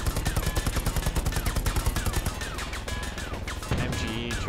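Rapid bursts of machine-gun fire in the World War II shooter Hell Let Loose, fast regular rattling shots for over two seconds, then a heavier blast and rumbling battle noise.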